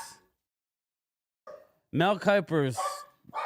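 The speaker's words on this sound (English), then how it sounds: "the dogs are going nuts" Dogs bark indoors in a burst of several quick, close barks and yips after a short silence, with a brief bit of talk just before.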